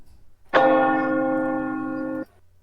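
A single bright bell-like chime rings out, sustaining steadily for about two seconds before cutting off cleanly, with no talking.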